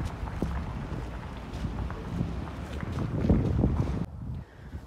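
Gusty wind rumbles and buffets the microphone outdoors on a cold, snowy street in Novokuznetsk, fairly steady, then eases off abruptly near the end.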